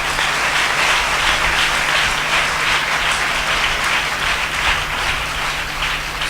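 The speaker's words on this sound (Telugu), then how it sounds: "చప్పట్లు కొట్టండి గట్టిగా." A church congregation claps loudly and steadily throughout, a dense continuous roar of applause filling the space with no pauses.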